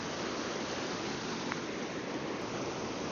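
River water rushes steadily and loudly around a campsite spot mid-river, a dense unbroken broadband roar with no pauses.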